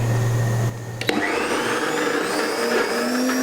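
A blender reblends a nut-free satay dip: a brief low drone cuts out, a knock follows, then the motor whirs up into a steady high-pitched whine, loud and close.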